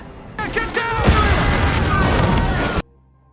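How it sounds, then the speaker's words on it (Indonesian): A loud, sudden explosion bursts out and roars on with crackling debris and rumble for a couple of seconds before cutting off. "Helikopter itu meledak"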